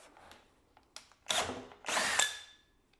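A Skil 12V PWRCore compact drill, short taps followed by two brief whirring bursts of the motor close by, fairly quiet overall with no talk.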